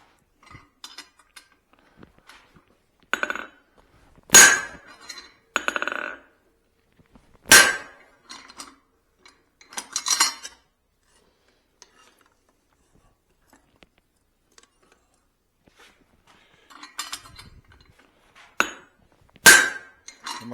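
A hammer strikes hot steel held in a guillotine tool while forging a Swedish-style cross peen hammer, giving sharp ringing metallic clangs in irregular bursts with quiet gaps between, close and loud.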